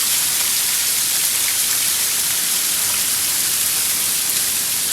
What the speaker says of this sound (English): Now we got a hailstorm.